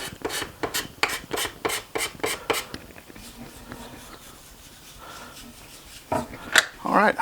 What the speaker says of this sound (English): just finishing up the scraping now